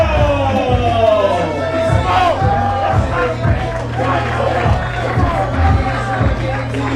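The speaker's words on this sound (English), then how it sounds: "Diego coming out here, getting the crowd up on his feet" A wrestling show crowd cheers and whoops as a wrestler makes his entrance, loud arena noise layered with pounding entrance music beats and a commentator talking over it.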